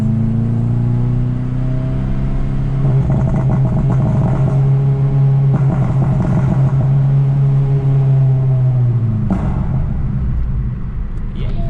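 Cars on a breakfast run rev their engines through a tunnel, a loud sustained drone with rising and falling revs and echoing rumble that fills the whole stretch, ending in a sharper burst near the close; faint voices may sit underneath.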